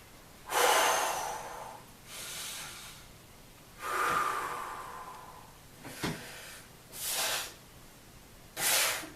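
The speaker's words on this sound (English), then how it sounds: "We'll take a couple of warm-up breaths." Heavy, forceful breaths drawn and blown out during a triceps exercise warm-up, about five separate bursts of rushing air spaced a second or two apart, close to the microphone with no talking.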